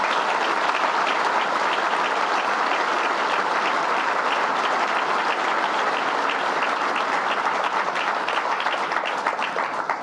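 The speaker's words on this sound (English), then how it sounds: "Let's give them a round of applause" A luncheon audience applauds steadily for about ten seconds: a full, even wash of many hands clapping together, loud and sustained without a break.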